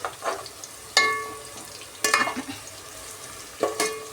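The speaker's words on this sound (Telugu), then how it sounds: "ఇంకా 2 నిమిషాలు బాగా ఫ్రై చేసుకుందామండి." Onions fry toward golden brown in a pan for biryani, a steady sizzle punctuated by four distinct scraping stirs of a spoon against the pan, close and moderately loud, with no voices.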